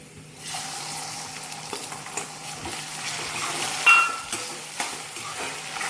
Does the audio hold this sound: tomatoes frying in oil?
yes